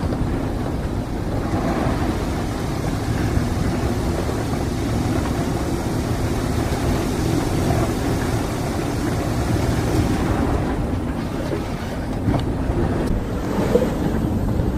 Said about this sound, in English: we're getting some gusts and we're getting pushed by some big waves that come through